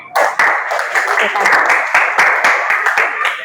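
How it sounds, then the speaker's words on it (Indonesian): A school audience in a counselling session claps hands in short, bright bursts. The clapping mixes with overlapping voices and chatter at close range. "Oke, tepuk tangan."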